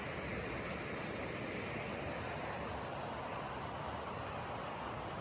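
Stream water at a clear campsite swimming hole on a trail, a steady broadband rush of flowing water that holds constant and close with no pauses.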